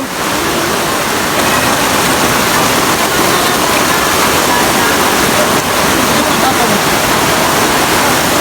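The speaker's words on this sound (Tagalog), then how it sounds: "malakas ang ulan" Heavy typhoon rain pours down in a dense, steady roar close by, broad and unbroken for the whole stretch.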